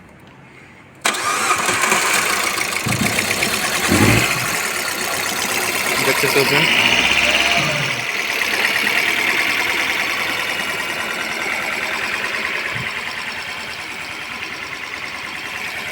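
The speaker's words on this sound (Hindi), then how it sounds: "हाफ सेल में हमारी गाड़ी चालू हो गई।" A Jeep Compass engine, just back from an overhaul, cranks and catches about a second in, then settles into a steady, loud idle that runs throughout while someone talks over it.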